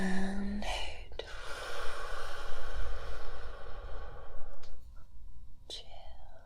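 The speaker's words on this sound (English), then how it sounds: "Breathe in and out." Slow, airy breaths drawn in and let out in a calm sleep-relaxation setting, close and soft, with one long exhale that trails off before a quieter breath follows.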